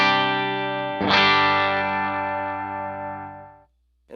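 Electric guitar on the bridge pickup through Jackson Audio Broken Arrow and Golden Boy overdrive pedals with gain maxed, a saturated sustained chord followed by a second hit that rings and decays, then a short burst of noise.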